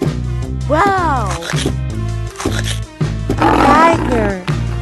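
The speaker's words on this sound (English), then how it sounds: "Tiger." Cartoon tiger roar sound effect, a loud close growl over a bouncy children's music track, with a sung or voiced interjection layered in.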